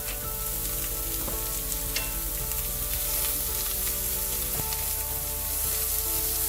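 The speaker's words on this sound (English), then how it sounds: "I'm going to add our sliced onions with just a little bit of salt" Sliced onions with a little salt frying in a pan, a continuous bright sizzle with steady crackling and occasional stirring, close and even, no talk.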